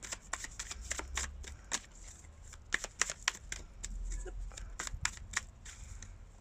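Tarot cards are shuffled in quick bursts of crisp riffling snaps, irregular and close, with brief pauses between runs in a quiet room.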